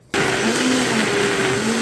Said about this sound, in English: the blender is just gonna do the rest of the work